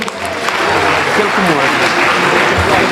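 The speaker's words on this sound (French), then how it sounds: "Sous vos applaudissements, soyez le bienvenu." A conference audience gives loud, sustained applause to welcome a speaker, a dense roar of clapping with voices murmuring underneath throughout.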